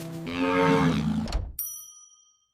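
A single cow moos once, a long, loud, close lowing call that fades, followed by a brief bright chime ringing out into silence.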